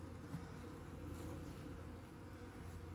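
Honey bees buzzing around upturned hive boxes leaned against their entrance, a continuous low drone that stays steady and fairly faint, without any voices.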